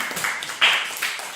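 Applause at a cat-drawing contest award ceremony held in a hotel, a small group clapping briefly with a few louder, distinct claps standing out over the rest.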